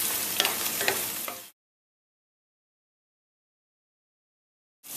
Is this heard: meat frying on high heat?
yes